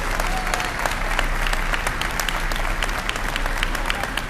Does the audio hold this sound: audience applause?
yes